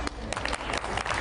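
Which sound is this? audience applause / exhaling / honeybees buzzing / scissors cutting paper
audience applause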